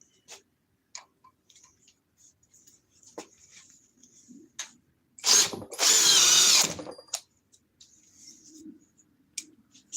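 A power drill runs in one loud burst of about two seconds, with scattered faint clicks and taps before and after it.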